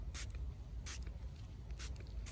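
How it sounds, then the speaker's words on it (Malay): A hand spray bottle misting M plus biostimulant onto bromeliad roots, three short hissing bursts in a regular rhythm, close and clear over a low background rumble. "M plus ni I just spray je dekat dia punya akar tu"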